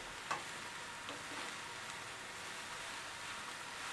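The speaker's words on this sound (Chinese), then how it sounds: "我们就可以放入这个萝卜丝。 Okay, 萝卜丝该我所说看很多，炒起来会变少的。 Okay, 我们先翻炒。" Shredded radish is stir-fried in a pan for a braised mushroom and radish dish, making a faint continuous sizzle with a brief scrape of the spatula near the start, close by and without talking.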